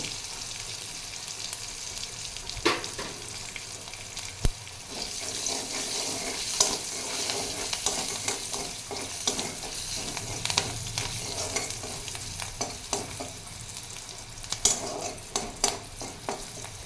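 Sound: greens frying in a pan with turmeric

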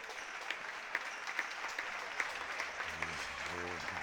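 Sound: audience applauding a player leaving the field

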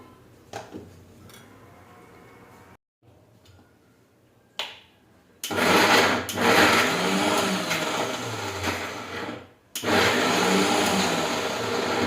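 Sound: mixer grinder grinding wood apple chutney

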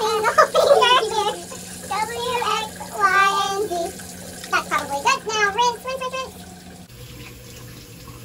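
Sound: water running from tap during hand washing

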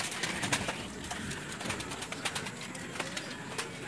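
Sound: pigeons cooing and flying

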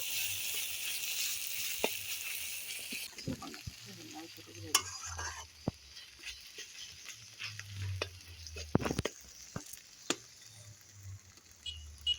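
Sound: ginger-garlic paste frying in a pan

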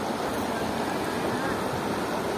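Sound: clear waterfall flowing in a valley

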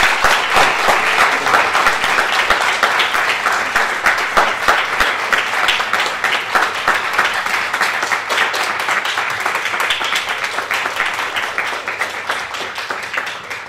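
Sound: applause

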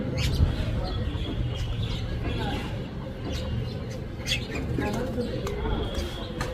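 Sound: white-breasted waterhen calling

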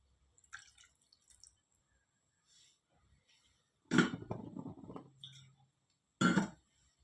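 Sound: adding a little water to cook dry prawn potato masala

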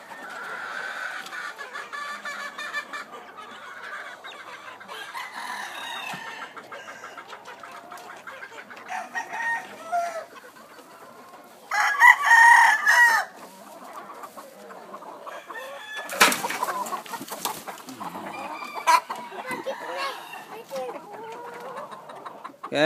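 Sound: Peruvian hybrid gamefowl rooster crowing

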